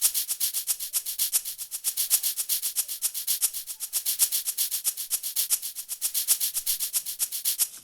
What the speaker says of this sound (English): I actually like this particular shaker.